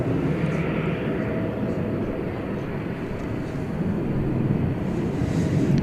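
A Boeing 787-9 Dreamliner airliner at DFW Airport produces a steady, broad jet engine rumble and roar that holds for the whole span, moderately loud with a distant airport feel.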